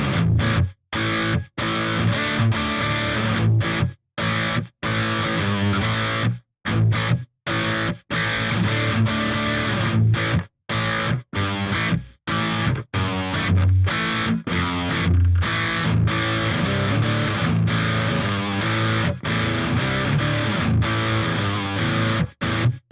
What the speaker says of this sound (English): Yeah, really nice rock and roll type tone. It's just super crunchy and, in my opinion, really nice and fat.